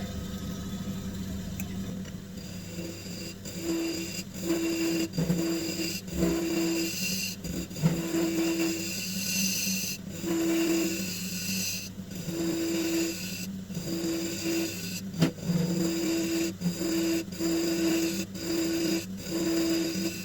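A turning tool cuts a yew cup on a wood lathe, giving a continuous rough scraping hum with intermittent squeaky tones and occasional sharper catches over a steady motor drone.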